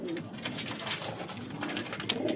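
A grizzle fantail pigeon coos softly in a few low, throaty phrases, close by but quiet, with faint rustling around it.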